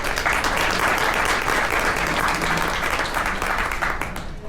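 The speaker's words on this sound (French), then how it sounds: "Et j'aimerais les applaudir." Loud, dense applause from a conference audience at MTL Connecte 2025, continuous close clapping that holds strong and then tapers slightly at the end.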